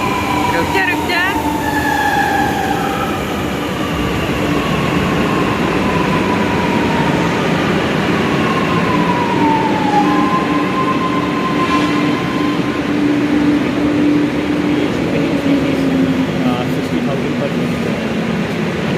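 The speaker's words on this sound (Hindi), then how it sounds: "ये हमारी ट्रेन आ रही है, हम लोग चढ़ेंगे।" A metro train pulls in and runs at a station in Lucknow, India: a loud, steady rumble with long squealing wheel and brake tones rising and falling, and people talking over the noise.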